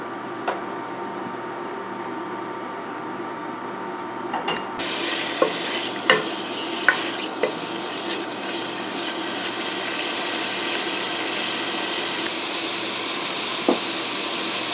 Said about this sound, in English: we'll toss in our chicken and let that sizzle away